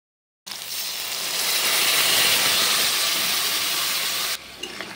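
A spice paste of ginger, cumin and garlic, with chili and turmeric powder, drops into hot oil for a fresh katla fish dish and bursts into a loud, steady sizzle that holds for about four seconds before easing off.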